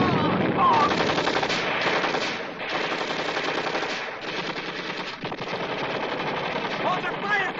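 Sustained machine gun fire in a Vietnam War battle scene, loud, close rapid bursts rattling almost continuously with brief dips, shouted voices faintly mixed in.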